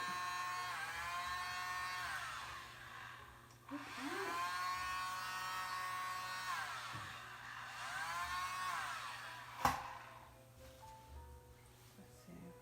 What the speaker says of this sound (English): I'm going to try the mini dryer and see what I get.